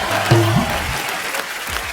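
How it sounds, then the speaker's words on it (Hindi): Brief burst of audience clapping on a comedy talk show, a short dense wash of applause that stays steady and fairly loud throughout. "एक बार इरफान भाई के लिए जोरदार तालियां।"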